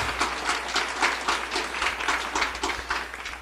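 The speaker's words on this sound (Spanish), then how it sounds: "Aplauso, por favor, para este muchacho." An audience applauds a young performer at a concert, a steady mid-level round of clapping with slight swells, filling the whole stretch without talk.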